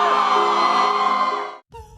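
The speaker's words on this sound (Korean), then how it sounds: "배우 이병헌이 등장하자 환호성 소리는 더 커졌습니다" A dense crowd roars and cheers loudly at the Venice Film Festival as actor Lee Byung-hun appears, a sustained wash of shouting that cuts off abruptly near the end.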